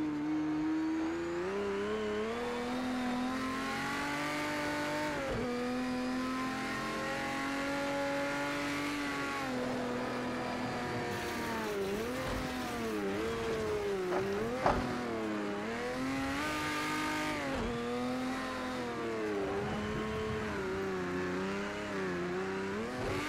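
Porsche 917k race car in Project CARS 2 lapping the Nordschleife, its engine howling continuously and close, pitch rising and falling through upshifts, braking and corner exits, with no talk over it.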